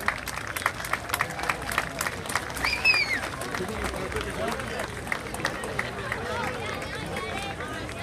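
Parade crowd applauding a youth dance group at a Greek Independence Day parade in Boston: steady, dense clapping and cheering throughout, with crowd babble and an announcer's voice over the noise.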